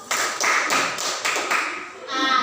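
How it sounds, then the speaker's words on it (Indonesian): Classroom applause during a microteaching lesson, a burst of several quick claps from a group of students, steady and close, fading slightly near the end. "Kita berikan aplaus kepada Ade Yus."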